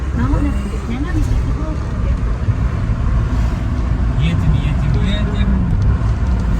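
Steady road noise from a car cruising along a highway in Japan, a continuous low engine and tyre rumble throughout with someone talking and navigation voice prompts over it.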